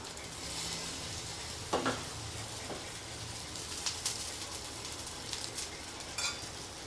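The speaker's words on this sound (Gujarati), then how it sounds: "આને સેલો ફ્રાય કરવાની છે આપણે." Farali ragda pattice shallow frying in a greased pan on medium heat give a steady sizzle throughout. Occasional soft scrapes and taps of a utensil stand out, with no talking.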